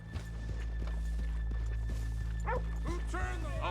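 Horses' hooves clop at an even, unhurried pace in the video game Red Dead Redemption II, crisp near thuds under a low hum, with voices talking briefly near the end.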